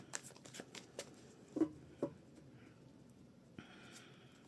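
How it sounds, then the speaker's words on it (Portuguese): Soft papery riffling and a few sharper snaps from a tarot deck, quiet and close, with a brief hiss of shuffling near the end. "Cortar o baralhinho."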